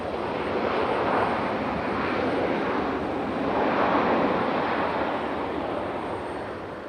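A Frontier airliner at Raleigh-Durham airport gives off a broad, steady jet roar at a moderate distance, swelling gently twice and then easing off slightly, with no talking.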